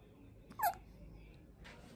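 A baby hiccups once, a small, brief, close sound set against quiet room noise, followed by soft breathing.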